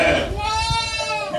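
Sheep and lambs bleat on a village pasture as the ewes return to their young, wavering calls overlapping close by with a steady, full-bodied cry throughout.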